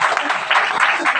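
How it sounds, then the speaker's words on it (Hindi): An audience at a training programme claps together in a brief burst of dense, close applause lasting just over a second. "ताली बना लीजिए।"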